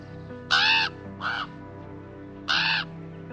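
A crow caws three times, harsh and fairly close, with short pauses between calls over a faint low background hum.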